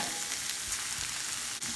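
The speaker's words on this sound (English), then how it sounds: "So we will go ahead and add the shrimp." Shrimp hit a hot pan of bell peppers and onion in butter and oil, frying with a steady, close sizzle and light stirring, no talking.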